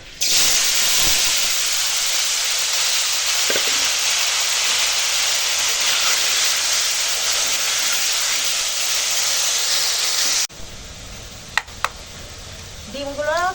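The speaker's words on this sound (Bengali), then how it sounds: "কড়া বসিয়ে দিয়েছি আর তেল গরম হয়ে গেছে তো চলো কুমড়োটা আগে রান্না করে নিই" Pumpkin pieces frying in hot oil in a wok, a loud steady hiss and sizzle running continuously for about ten seconds before dropping away to quieter kitchen sounds.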